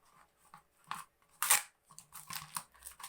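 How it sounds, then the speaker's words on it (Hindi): A knife cuts through a plastic bottle in a string of close, crisp crunching and crackling bursts, uneven in rhythm, with one louder snap midway and no talk. "इसको हम नाइफ की मदद से कट कर लेंगे"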